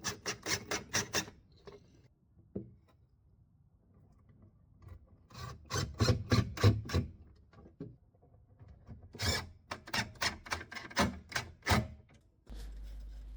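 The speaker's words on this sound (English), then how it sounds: "I gave it a really good sand everywhere for a good 10 minutes" A wooden vivarium for a corn snake being sanded by hand, loud rhythmic rasping strokes in quick bursts separated by short pauses, close up with no talk.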